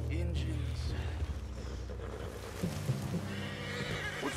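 A horse whinnies in Red Dead Redemption 2, its neigh rising over game ambience with muffled hoof clops and shifting background rumble, while voices talk nearby.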